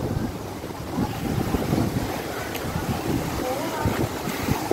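A waterfall at Tanguá Park in Curitiba, Brazil, gives a steady, broad rushing roar that holds at an even level, with gusty wind-like turbulence throughout.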